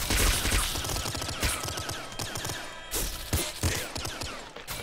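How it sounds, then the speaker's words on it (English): Rapid, dense bursts of video-game gunfire from a disc gun in Nuclear Throne, loud and continuous with sharp repeated impacts and no talking. "We get a disc gun."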